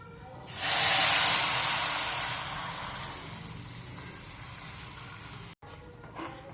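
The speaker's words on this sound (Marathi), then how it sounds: "ड्रायफ्रुट्स आणि शेवया छान अशा परतून घेतलेल्या आहेत तर त्याच्यामध्ये आता मी दूध टाकून घेते" Milk hits a pan of ghee-roasted vermicelli and dry fruits with a sudden loud hissing sizzle that slowly fades into a softer steady bubbling, then a brief break and a small clink.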